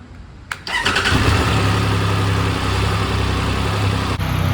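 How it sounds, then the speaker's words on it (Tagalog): Triumph Speed Triple RR motorcycle on its stock, unmodified exhaust starts up with a sharp crank and catch, then settles into a steady, fairly loud idle rumble close by, with a brief dip near the end. "Hindi pa upgraded ang exhaust niya kaya mas tahimik siya kaysa sa Trident ko"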